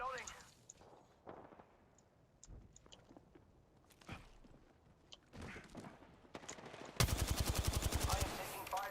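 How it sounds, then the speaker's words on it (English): Video game gunfire: scattered quieter shots and clicks early on give way to a loud, rapid automatic burst near the end, with game voices talking over the action. "I am taking fire, friend."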